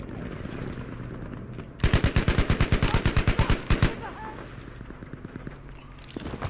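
Rapid automatic gunfire from a new free weapon in the shooter game Battlefield V, a burst of about twenty evenly spaced loud shots lasting roughly two seconds, with quieter game ambience before and after.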